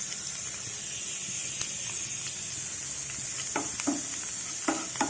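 Cumin seeds hit hot oil for a chutney tempering made with radish greens and raw mango: a steady soft sizzle and hiss, with a few light clinks of a spoon toward the end.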